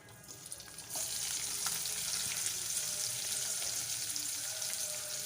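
Chopped onions hit hot oil with cumin seeds in a pan for egg curry. After a quiet start the sizzle jumps up sharply near the one-second mark and holds as a close, steady crackling hiss.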